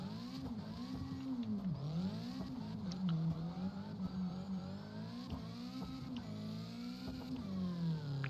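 A tuned car engine, spoken of alongside V8, 2J and RB setups with anti-lag, bogs in sixth gear, its droning note rising and sagging sluggishly as it labors and revs without pulling cleanly.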